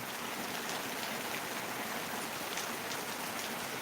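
Steady, dense downpour of heavy April rain in Kudal, Sindhudurg, Konkan, hissing across all frequencies, loud and continuous with no voices.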